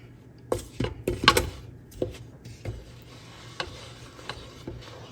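Spoon clinking and scraping against a bowl while whole wheat flour is stirred into bread dough, a quick flurry of knocks and clinks early on, then sparser, softer taps near and fairly quiet.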